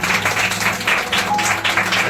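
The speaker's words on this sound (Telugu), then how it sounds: "ఎందుకు చప్పట్లు కొట్టిస్తామంటే మీరు ఉత్సాహంగా ఉండాలని." Church congregation clapping together at a Sunday service, a loud steady rhythm of about four claps per second kept up throughout with no talking.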